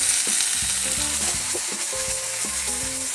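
Steady, loud sizzling of vegetables grilling in olive oil, with occasional clinks of a utensil against the pan.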